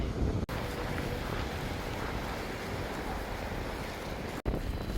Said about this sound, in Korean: 바람이 진짜 많이 불어요